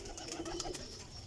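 Golden pigeons give a brief burst of soft cooing close by, a few low pulsed calls over faint background hiss.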